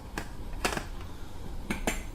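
Two metal cooking pots and a teakettle being handled, with a few sharp clanks and clinks spaced apart against a quiet room background.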